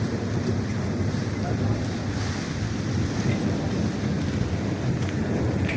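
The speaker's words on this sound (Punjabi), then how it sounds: "ਬਾਰਿਸ਼ ਜਿਹੜੀ ਹੈ ਬੜੇ ਜ਼ੋਰ ਦੀ ਹੋਣ ਲੱਗ ਗਈ ਹੈ।" A dense roar of heavy rain and strong wind, steady and loud throughout, with rumbling wind noise on the microphone.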